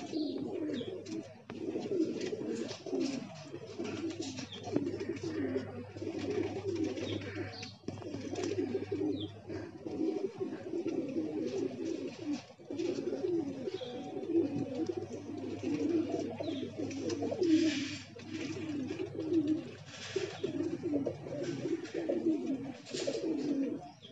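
Pigeons coo in a steady, overlapping murmur close by, with soft flutters as birds arrive and settle on a perch, continuous throughout without talk.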